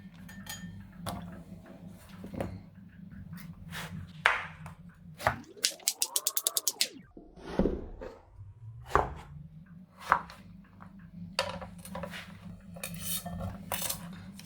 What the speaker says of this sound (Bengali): ঠিক এই সাইজের আমি পিস পিস করবো লাউগুলো এইভাবে লাউগুলো পিস পিস করে আমি এটার মধ্যে রাখবো